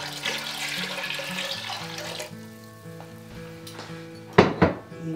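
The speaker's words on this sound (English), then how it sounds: "So now I'm measuring out 4 cups of white vinegar." Four cups of white vinegar pour into a container for a curry cauliflower pickle brine, a steady close splashing stream with a rising pitch that tapers off, followed by a couple of sharp knocks.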